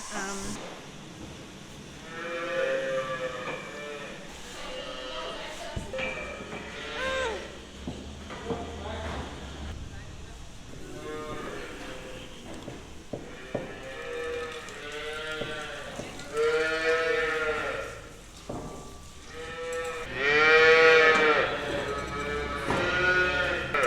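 Cattle in a shed at feeding time moo loudly again and again, the calls overlapping and coming from several animals at different distances, with a steady background din and a voice talking among them.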